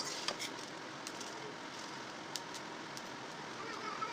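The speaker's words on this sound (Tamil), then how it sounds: "நல்லா மழை பெஞ்சிட்டு இருக்கு" Heavy rain pours down during a power cut in a steady, dense hiss, with a few faint crackles and taps scattered through it.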